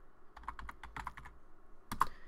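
Typing a configuration command on a computer keyboard for a Cisco Catalyst 2960 switch: a quick run of close, crisp key clicks followed by a short pause and two harder final strokes.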